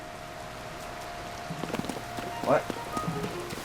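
Rain pours down in Zelda Tears of the Kingdom as a constant soft hiss, with a few brief thuds and a short spoken word near the middle.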